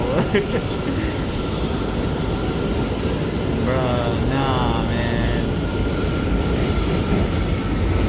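An R179 A train on the New York City subway brakes through a curve, loud rumbling cab noise with rising wheel squeal and screeching tones midway, while someone speaks briefly over it.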